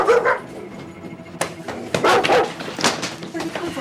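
Dog barking inside an apartment, several sharp barks and yips mixed with people talking close by, fairly loud and intermittent.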